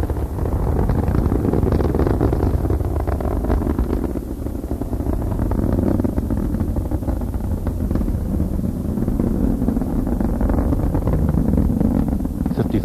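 The three liquid-fuel main engines of Space Shuttle Endeavour roar during launch as a continuous broadband rumble, heard at a distance, steady and dense for the whole stretch and briefly throttling back.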